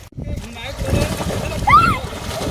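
Boys splash while bathing in the flowing Shivnath river, a busy run of watery slaps and churning with voices and chatter mixed in throughout.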